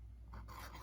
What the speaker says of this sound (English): So I'm gonna write radish.